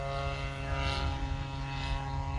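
A Great Planes Giant Supersportster gas-powered RC airplane engine, fairly new and still being broken in, drones steadily and loudly with a constant buzzing tone and slight swells, no talking.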